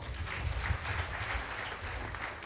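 Brief applause from an audience at a TETFund committee inauguration ceremony, greeting a professor joining remotely by Zoom; a moderate, steady patter of clapping held at even loudness throughout.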